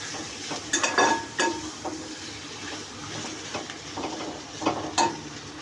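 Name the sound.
frying potato, onion and chili in a pan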